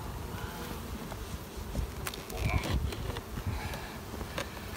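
Honey bees drone in a steady, dense hum inside an open hive of several frames, close and continuous, with faint handling clicks.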